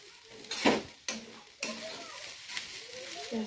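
Grated coconut roasting in a pan for coconut burfi, stirred with repeated scraping strokes of a spoon against the metal and a faint sizzle underneath, the sweeps coming every half second or so.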